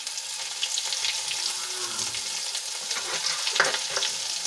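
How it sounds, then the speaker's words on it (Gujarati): Chili and garlic paste sautéing in hot oil with asafoetida and a bay leaf for a boiled potato curry: a faint, steady crackling fry with light stirring scrapes close by and no speech. "અને સરસ રીતે આપણે તેલમાં એને સાંકળી લઈશું તો મરચાં અને લસણની પેસ્ટ થોડી સંતળાઈ જાય"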